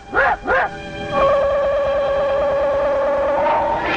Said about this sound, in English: Oh, it's Ron Tom Tom, the dog that saved Hollywood.